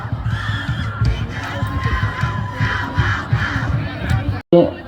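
A crowd of students cheers loudly at a school colour-games boys' football final at a stadium in Chiang Rai, Thailand, a sustained roar of shouting voices with a loudspeaker voice mixed in.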